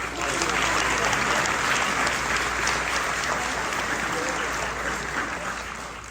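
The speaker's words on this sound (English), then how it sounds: "Let's give him another round of applause." Sustained applause from a large crowd at an award luncheon, steady and loud throughout, slowly tapering toward the end.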